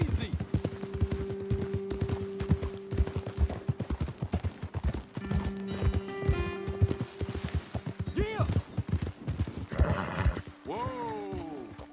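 Horses from the video game Red Dead Redemption 2 clip-clop along at a steady walking rhythm, with a couple of whinnies near the end, close and fairly quiet, with talk over the hoofbeats.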